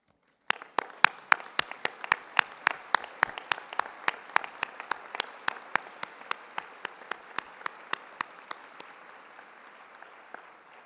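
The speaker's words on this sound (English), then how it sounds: "please stand at your table as we honor you with a round of applause" A breakfast audience stands at their tables and applauds nominees at a schools leadership event, the round starting abruptly with sharp claps and steadily thinning toward the end, with no talking over it.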